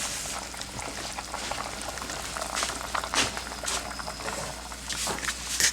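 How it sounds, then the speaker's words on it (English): Water boils in a cooking pot, a continuous close bubbling and rolling patter with small sharp pops rising through it, steady throughout with no talking. "It's boiling."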